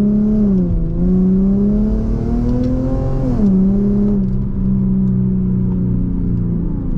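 An Infiniti G37x engine revs close up during downshifts while driving, its tone sliding down and then rising as each gear drops, with a steady whir underneath.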